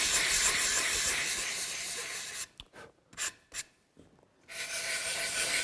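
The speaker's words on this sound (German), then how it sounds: "Den letzten Schliff bekommen Beine und Gratleisten von Hand." Hand sanding along the edges of wooden table legs and battens: steady continuous rasping strokes, a pause with a few short rubs, then sustained sanding resumes, close and moderately loud with no talk.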